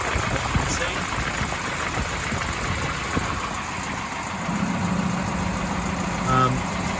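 The eight-cylinder engine of a 1934 LaSalle sedan idles in a steady low rumble, heard close with even mechanical noise and no speech.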